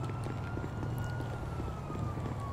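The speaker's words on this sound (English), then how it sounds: "There's sirens, man." Police sirens wail in the video game GTA V, a steady loud siren tone sweeping slowly over a low engine rumble, running throughout without talk.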